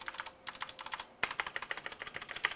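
Keystrokes on a DECK Mantella RGB keyboard type in a quick, steady run of crisp clicks, close and fairly quiet, with one firmer press partway through.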